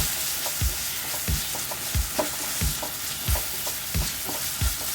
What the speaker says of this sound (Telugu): మీ టేస్ట్ సరిపడా సాల్ట్, అలాగే పసుపు వేసేసి మరొకసారి బాగా మిక్స్ చేసేసుకోవాలి